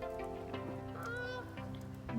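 Geese honk repeatedly nearby, a series of nasal, brassy calls in uneven bursts with brief gaps, no talking.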